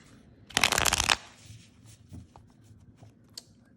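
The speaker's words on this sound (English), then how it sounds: "I'm going to do a pretty good shuffle on these cards." A quick, loud riffle of tarot cards being shuffled lasts about half a second, followed by softer taps and light handling noises in a quiet room.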